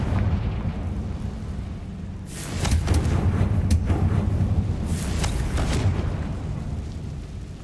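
A Confringo blasting curse in Hogwarts Legacy sets off a loud explosion inside a spider-filled tomb. A sudden boom follows a steady low hum, with several crackling bursts rolling on for a few seconds.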